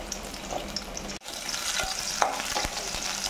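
Small onions frying in oil for a carrot chutney, a close continuous sizzle with a few stirring scrapes and taps against the pan, no voices.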